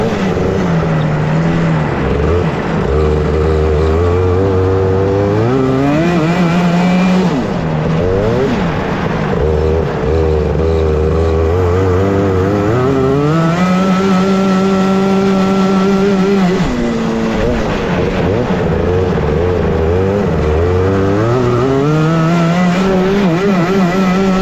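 Racing karts take the final corner of the last lap of a heat on a winter track at a Samara Region cup event. Several engines whine loudly and continuously, rising and falling in pitch as they rev and pass.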